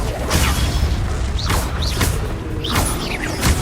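Spell-casting effects from the Hogwarts Legacy video game, including the fiery Confringo blast spell: a dense, loud run of whooshing bursts and booming impacts repeating every half second or so over constant rumbling combat noise.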